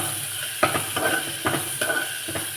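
Green chilli and onion sizzle in hot oil, a steady frying hiss broken by a few soft stirring scrapes, close and fairly loud.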